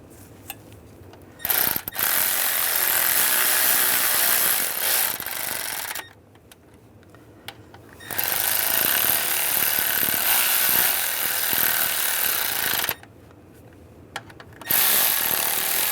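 Bolts being run down with a power ratchet on the engine of a 2011-2018 Ram 1500 with a 3.6L V6, three long, loud whirring bursts separated by brief quiet pauses and a few clicks, heard up close with no talking.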